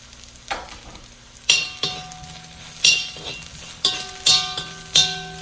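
Fried rice with chopped dried shrimp fries in a pan, a low sizzle broken by a series of sharp metallic clinks and scrapes of a spatula stirring at roughly one-second intervals.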